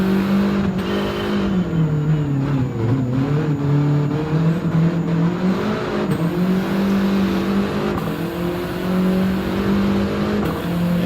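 A race car engine in Gran Turismo 7 drones loud and continuous, its pitch dipping and climbing as the car shifts and accelerates, with no voices over it.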